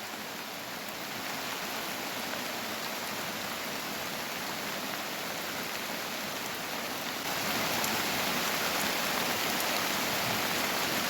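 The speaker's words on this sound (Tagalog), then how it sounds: "Ang lakas ng ulan dito sa bundok sa Sarangani province" Heavy rain pours down in the mountains of Sarangani province, a dense, unbroken hiss that stays loud and constant, swelling slightly louder toward the end, with no voices over it.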